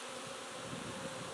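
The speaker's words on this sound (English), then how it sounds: "But this is just crawling with bees." Honeybees buzzing during a hive inspection on a sunny day, a dense steady drone of many insects close by with no other sounds.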